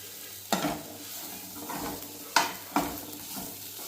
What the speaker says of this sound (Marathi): आता परतून घेता